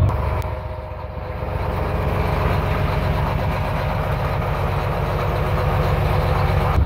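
A sailboat's inboard engine idles steadily after being switched on, a continuous low mechanical throb with a rapid rhythmic pulse, close and fairly loud, with no talking over it.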